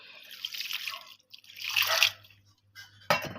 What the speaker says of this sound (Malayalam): വെള്ളം ഒഴിക്കണം